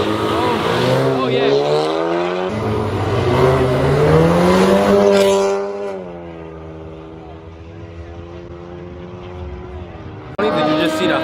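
A BMW 328 revs hard in a street race, loud engine pitch climbing then sweeping down as the car passes, with people talking nearby over the roar.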